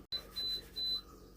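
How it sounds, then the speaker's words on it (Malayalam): A refrigerator alarm sounds three short, high electronic beeps in a quick even rhythm, faint and close over a low room hum. "ഫ്രിഡ്ജ് അലാറം അടിച്ചു തുടങ്ങി"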